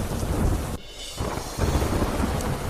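Heavy rain pours down during a thunderstorm in Dwarka, a dense hiss broken by a brief lull, with deep rumbling underneath.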